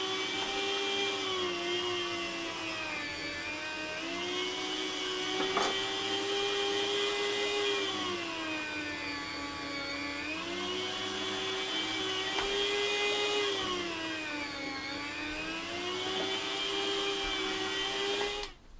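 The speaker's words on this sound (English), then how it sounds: "throw this on the slicer. First couple of slices will be we want them nice and thin." An electric meat slicer thinly cutting beef for cheesesteak runs as a steady, close whirring motor whine whose pitch dips and recovers in slow cycles as each slice is drawn, continuing without pause.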